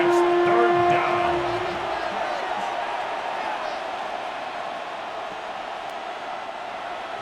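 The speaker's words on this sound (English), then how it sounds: "This crowd into it now as we get to 3rd down" Stadium crowd in the video game Madden NFL 26 roaring on a 3rd down, a loud sustained wash of cheering that tapers slightly, with a brief horn-like tone near the start.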